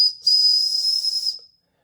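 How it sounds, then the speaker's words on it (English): A single shrill, steady blast from a tiny whistle lasting about a second, high-pitched and loud, then silence. "The whistle is tiny but still pretty loud."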